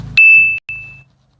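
A short electronic notification chime: two bright, clear tonal beeps in quick succession, loud and close, then fading into silence.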